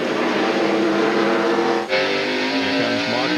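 NASCAR stock cars race at Sears Point in 1999, their loud engines roaring and revving close by with a sharp pitch shift as one car passes and changes gear.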